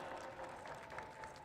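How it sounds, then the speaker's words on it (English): An arena audience at PAX East applauds a video game tournament winner, a dense and continuous burst of clapping from a large crowd, loud and filling throughout. "One more round of applause, everyone."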